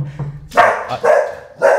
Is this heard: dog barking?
yes